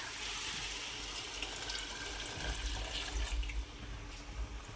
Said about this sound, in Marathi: माझी मम्मी आता पाणी वतती त्याच्यात